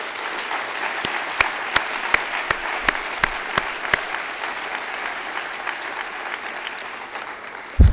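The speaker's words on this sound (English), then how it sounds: "Let's give them a round of applause." Applause from an audience at a campus diversity summit community assembly, a continuous patter of many hands with several sharp individual claps standing out, steady and moderately loud, ending in a brief bump.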